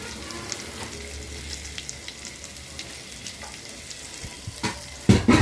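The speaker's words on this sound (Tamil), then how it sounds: "இப்போ நம்ம இதை வச்சுருக்க மசாலா இதை வந்து எண்ணெயில் போட்டு ஒரு வதக்கலாம்." Masala frying in oil with mustard seeds for masala sundal, a low steady sizzle with scattered pops and crackles, ending in a louder burst of spattering.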